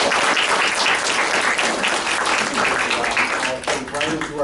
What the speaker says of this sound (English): But let's give Dan a round of applause.